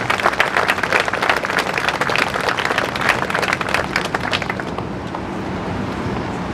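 Applause from an audience at a military change of command ceremony, a dense round of clapping that holds steady for several seconds, then thins out and fades near the end.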